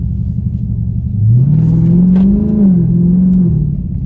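A car engine switched into sport race mode revs up from a low idle rumble into a loud, rising roar that holds for a couple of seconds and then eases back down, heard close by with no talking.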